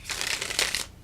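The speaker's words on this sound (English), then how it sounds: "I'll just show you with one shuffle" A single quick riffle shuffle of a fairly rigid Smith Waite Centennial Edition tarot deck, a brief, close flutter of cards lasting under a second with no talk.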